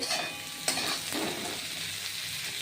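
Ginger pieces fry in hot oil in a pan for a Bengali pumpkin and prawn-head dish, giving a steady, close sizzling hiss with a brief utensil clink near the start and no talking.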